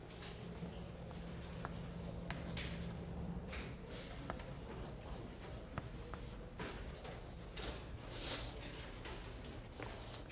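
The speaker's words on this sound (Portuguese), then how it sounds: "eu vou escrever uma coisa aqui" Marker or pen scratching across a board during a calculus lecture, faint intermittent strokes and taps against a steady room hum with no talking.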